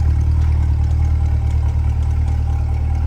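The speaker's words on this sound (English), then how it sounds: "listen to that exhaust." Idling engine of a 2023 Chevrolet Corvette 2LT convertible with NPP exhaust, a deep, steady rumbling burble close by, holding level for three seconds with no talk over it.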